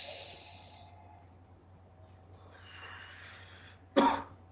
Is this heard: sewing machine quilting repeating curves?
no